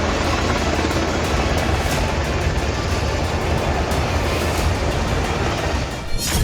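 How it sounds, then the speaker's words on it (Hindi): Israeli army helicopters returning from the Gaza Strip to land at hospitals, a loud continuous rotor roar with steady rhythmic blade chop filling the whole clip. "ये इजरायली सेना के हेलीकॉप्टर हैं जो गाजा पट्टी से लौट रहे हैं"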